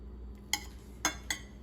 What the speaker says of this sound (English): let me just cut a patty so you can see the inside